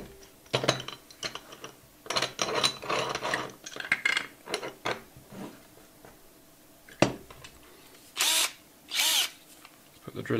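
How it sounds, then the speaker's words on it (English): Short bursts of a hand-held electric drill whirring on and off while drilling a pilot hole, several spaced starts and stops, close by, with brief clicks and handling noise between. "So first we need to do a pilot hole."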